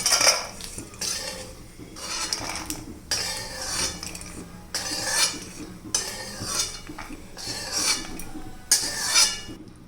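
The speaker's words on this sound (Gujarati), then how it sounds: "હવે એને આપણે એક ડીશમાં કાઢી લઈશું." Roasted dry fruit tipped from a pan into a dish, heard as repeated bursts of scraping and clinking of a spoon against metal, close and fairly loud, with a faint sizzle between strokes and no talking.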